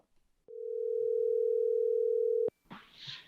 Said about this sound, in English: So let's give a phone call and see if we can't have a few minutes to catch up with Dave Attell.